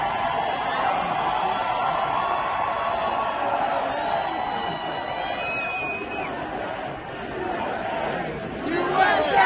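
A large crowd at Donald Trump's presidential inauguration ceremony roars in a steady, dense wash of cheering and chatter, with whistles and shouts rising above, swelling louder near the end.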